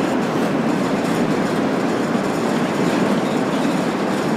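A train in Train Sim World 3 rolls on steadily near a hill summit, a loud, even rumble with faint clickety-clack of the wheels throughout and no talking.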